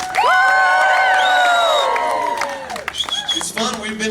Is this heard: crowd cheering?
yes